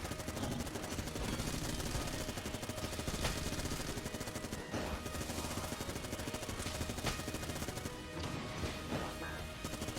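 Rapid, continuous automatic fire from the Vulcan Cannon in the video game Enter the Gungeon, a dense loud stream of shots with crashes and impacts layered over game music for the whole stretch.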